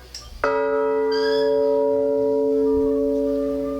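A heavy church bell at the Igreja Matriz de Socorro is struck once by its heavy clapper, a loud clang that hums on with a long, steady ringing decay, close by.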